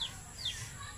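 Crossbreed Kabir and Jolohano chickens cluck faintly in a short burst, with a few thin high calls over low background rumble.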